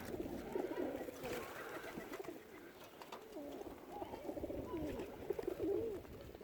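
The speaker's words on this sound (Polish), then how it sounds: "Nic takiego specjalnego, po prostu gołębie" Several Budapest and Murzyn flying pigeons coo continuously, their soft throaty warbling overlapping in a steady murmur against low background noise.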